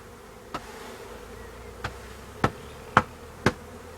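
A honeybee swarm being shaken and poured from a bucket into a hive makes a continuous low buzz, broken by five sharp knocks.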